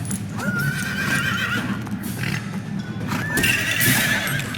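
Horse in Lego Harry Potter with Ron riding it, two loud neighs over rhythmic clip-clopping hooves and game ambience.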